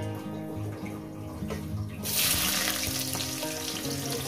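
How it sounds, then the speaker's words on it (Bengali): Chopped onions are fried with cumin seeds in hot oil for a mutton curry, a steady close sizzle that swells louder and brighter partway through, with a low background hum and no talking. "তো বন্ধুরা পেঁয়াজটাকে আমি ভেজে নিয়েছি।"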